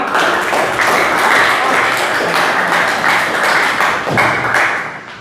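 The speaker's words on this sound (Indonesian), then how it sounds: "tepuk tangan untuk semua" A vocational high school class bursts into sustained applause, dense overlapping clapping from many students in a classroom, loud and continuous.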